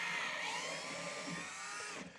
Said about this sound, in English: we're gonna drill a couple holes in this wall right here